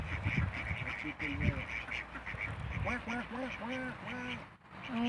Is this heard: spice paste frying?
no